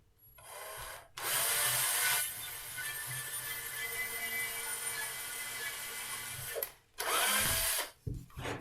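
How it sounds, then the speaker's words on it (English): A power drill with a 2 mm pilot bit whines up and bores steadily through wood at close range for a birdbox, pauses briefly, then spins up again in a short final burst. "use the 2 millimeter pilot hole bit. Just drill that all the way through."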